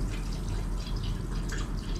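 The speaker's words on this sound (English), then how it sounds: "It's like bubbling. What the hell's going on there?" Liquid bubbling in food in Thailand, a continuous dense fizzing and crackling texture, close and fairly quiet, with no voices.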